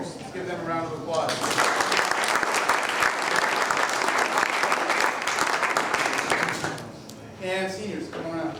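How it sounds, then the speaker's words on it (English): A crowd applauds sophomores and juniors at a Jesuit water polo fall sports awards event, a dense, loud wash of clapping swelling for about six seconds and fading, with talking before and after. "Let's give them a round of applause"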